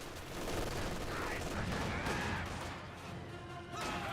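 Dense small-arms fire crackles through a Company of Heroes 2 battle as a conscript squad advances, a continuous busy rattle of shots and impacts at moderate distance.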